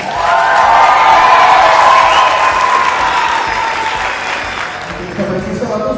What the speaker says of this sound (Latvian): Koncertālē rītā mēs esam pelnījuši skaļus aplausus.